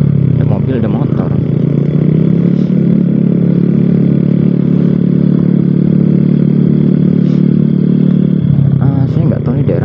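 Steady, loud road traffic heard from a moving motorcycle, with engine drone, passing cars and motorbikes running continuously throughout.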